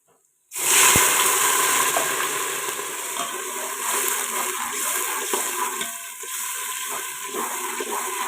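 A sudden loud hiss and sizzle as water hits a hot pan of browned onions, settling into steady bubbling and crackling that continues throughout.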